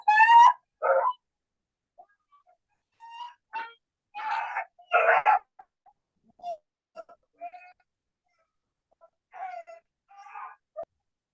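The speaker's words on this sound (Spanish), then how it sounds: "tengo aquí una perrita que está enferma" A small female dog that is sick gives short, intermittent barks and whimpering yelps indoors, isolated bursts separated by silence.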